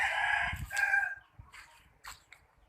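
A rooster on a garden farm crows loudly and close, one long drawn-out call. Softer clucks and short chicken calls follow in the quieter background.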